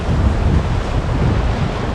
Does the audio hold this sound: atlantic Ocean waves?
yes